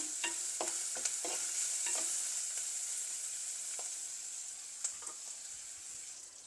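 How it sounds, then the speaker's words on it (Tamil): Onion, garlic and mint leaves sauté in a pan for egg curry, a soft continuous sizzle broken by several sharp scraping stirs of a spoon, close and fairly quiet. "இதெல்லாம் நல்லா வதங்கிடுது"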